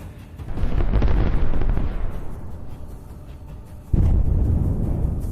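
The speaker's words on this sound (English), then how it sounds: "Ukrainian defense forces met this assault, involving a significant amount of equipment, with artillery fire and cluster munitions." Artillery fire and cluster munition blasts striking Russian vehicles in combat: a dense, rumbling run of explosions and crackling impacts, then a sudden loud boom near the end followed by more sustained rumbling.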